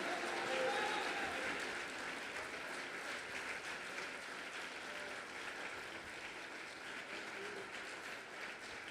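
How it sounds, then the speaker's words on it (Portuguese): A church congregation applauds in a steady, soft, distant wash of many hands clapping that holds evenly and tapers slightly toward the end. "Você pode aplaudi-lo por isso?"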